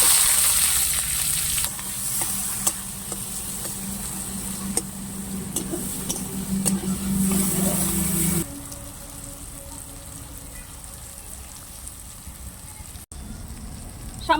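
Chopped onion, capsicum and green chili frying in hot oil in a kadai, a steady crackling sizzle with occasional sharp pops, easing to a quieter hiss in the second half.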